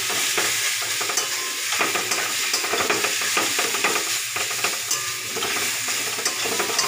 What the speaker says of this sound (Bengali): পাট শাক ভাজা আমার হয়ে গেল।